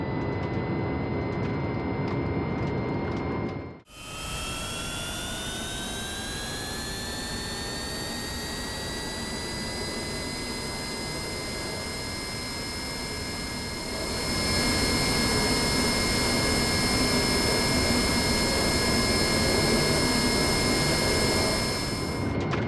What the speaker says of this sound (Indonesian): pesawat akan berakselerasi di sepanjang landasan pacu